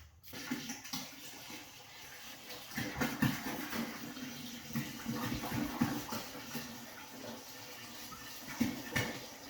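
Plain unfiltered tap water runs steadily into a container while preparing a homemade ginger beer brew, a continuous gushing, splashing flow at moderate level with a few louder surges and no talking.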